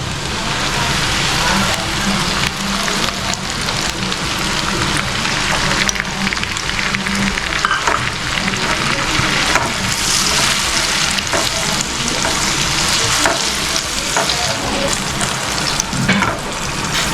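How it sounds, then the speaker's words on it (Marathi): Tomato and onion paste frying in a pan for chicken angara, a continuous dense rain-like sizzle holding steady and close throughout, with no talking. "आता आपण ह्या ठिकाणी टॅमॅटो आणि कांद्याचा पेस्ट टाकणार आहोत"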